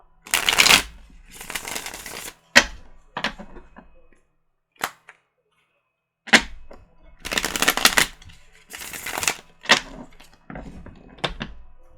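Shadowscapes tarot cards being shuffled in short, crisp riffling bursts separated by pauses, close and clear with no talking.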